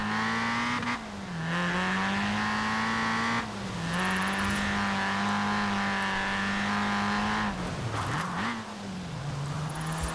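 Toyota AE86 racing car in Forza Horizon 4, running on stock brakes, its engine droning loudly and steadily close by, with two brief dips in pitch as it short-shifts through the gears.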